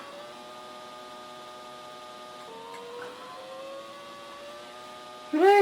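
A car engine whines in an Amiga racing game, a steady synthetic tone whose pitch climbs gradually as the car accelerates. A louder burst of sound breaks in at the very end.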